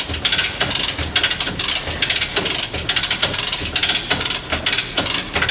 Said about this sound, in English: as the come alongs are being ratcheted, you can see the slack that was in the cable being pulled out through the wedge lock